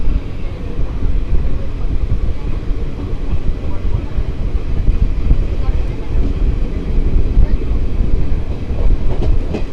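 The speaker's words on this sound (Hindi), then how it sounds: "बिकॉज ट्रेन बिल्कुल 30 सेकंड के लिए रुकी थी और एकदम से चल दी" Kanchanjunga Express train rolling away after a brief station stop, a steady rumbling rattle of the carriages heard from inside, with a voice talking over the continuous noise.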